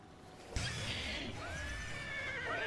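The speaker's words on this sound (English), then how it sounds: "How dare you threaten my horse." A video game horse gives a loud, close whinny that rises and then trails off in quavering pitch, with a few hoof clops and game ambience behind it.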